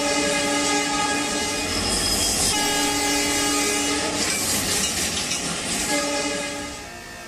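An Oxygen Express train on the railway in India roars past loud and close, with a sustained horn over continuous rumbling and clickety-clack that fades slightly at the end.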